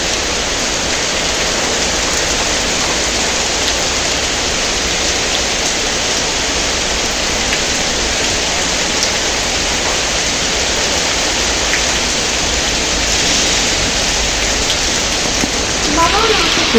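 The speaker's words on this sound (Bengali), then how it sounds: "এখন প্রচুর বৃষ্টি হচ্ছে।" Heavy rain pours down in a dense, loud, continuous roar of drops striking surfaces. It stays steady throughout and fills the whole scene up close.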